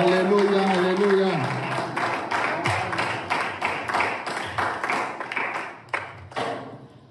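Church congregation clapping in steady rhythmic unison while acclaiming God, sharp repeated claps under singing voices that fade, leaving the clapping to trail off at the end.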